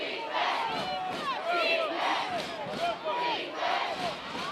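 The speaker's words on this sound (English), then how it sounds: "the crowd for the Green Machine, they're chanting defense" A high school football crowd in the stands chanting "defense" in a rising and falling rhythmic roar, with a commentator talking over it throughout.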